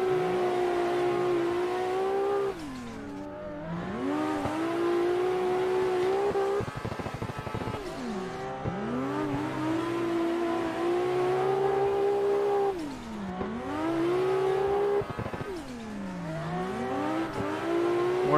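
Cars drifting in tandem in a racing simulator game, played with a Moza R5 wheel without clutch or handbrake. Engines scream at high revs, dipping and climbing sharply as the cars slide together, loud and continuous with no talk.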